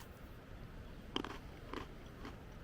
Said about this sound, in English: The biscuit's got a really nice crunch to it.